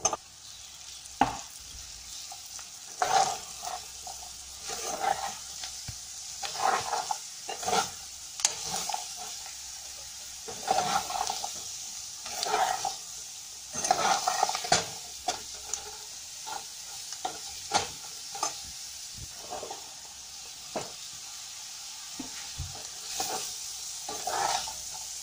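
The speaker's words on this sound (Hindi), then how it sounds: "अब मैंने सब्जी को अच्छी तरह मिक्स कर दिया मैंने" Zucchini sabzi is stir-fried in a pan: a soft background sizzle broken by repeated scraping stirs, loud and close, coming in irregular bursts.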